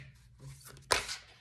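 Tarot cards being shuffled by hand, a soft papery rustle building to one sharp riffling snap of the deck near the end, close and alone.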